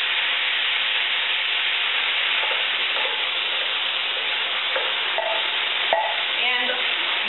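Tofu frying in a pan with drained canned mushroom pieces and diced tomatoes, giving a steady close sizzle throughout with a few soft stirring scrapes, and no talking.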